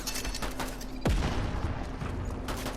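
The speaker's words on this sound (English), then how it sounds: "And this is a flashbang." A flashbang stun grenade goes off in Fortnite during a bomb plant-or-defuse round: one sharp, loud bang followed by a quickly fading ring, with ongoing game noise before and after.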